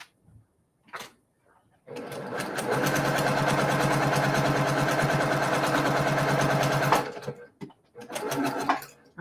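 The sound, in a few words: sewing machine stitching fabric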